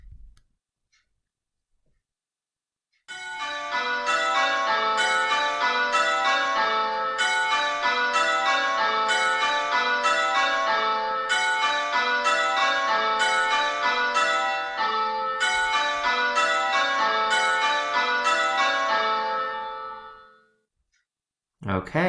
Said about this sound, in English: It was the fifth bell that dropped out